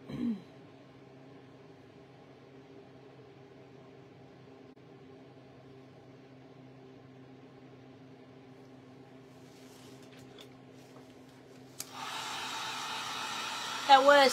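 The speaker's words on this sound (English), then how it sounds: "we're gonna dry this a little bit" A hair dryer blowing on a homemade spindle snowman craft switches on near the end after a long, quiet stretch of low humming, then roars loud and steady at close range.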